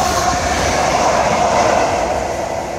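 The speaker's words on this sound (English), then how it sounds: "First train of the day." A train rushes past close by in a continuous loud roar of wheels and rail noise, with no speech.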